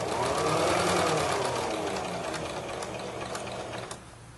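A sewing machine stitches a quilt block seam, its needle running in a fast, steady mechanical whir that is loud at first, eases slightly, then drops off near the end; no one talks.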